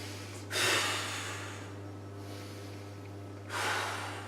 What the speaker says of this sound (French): Et là maintenant, j'exagère aussi la respiration